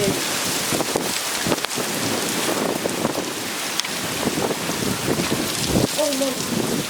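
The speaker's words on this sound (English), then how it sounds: "Oh god, the rain's really starting to come in." Heavy rain pours during a derecho wind storm, a dense, steady roar with gusts buffeting the microphone and no break for the whole stretch.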